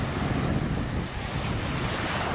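Sea waves wash onto a beach in Da Nang, Vietnam, under an overcast sky; a loud, continuous roar of surf mixed with heavy wind buffeting the microphone.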